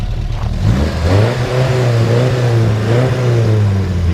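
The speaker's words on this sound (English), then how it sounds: "So go ahead and rev it up a little bit." A 1966 MG MGB roadster engine revving up from idle, close and loud, its pitch rising and then holding at a higher steady drone with a slight waver, no voices over it.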